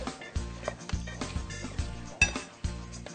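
Metal pot and cutlery clinking and clattering repeatedly while meat is roasted for a Turkish nazlı et kavurması, with irregular close knocks and scrapes over a steady cooking background.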